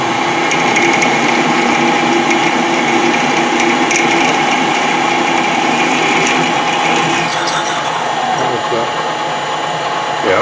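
A 9.5mm drill bit boring into a broken bolt, a loud, continuous grinding whir with a ratcheting mechanical edge that runs steadily and eases slightly near the end.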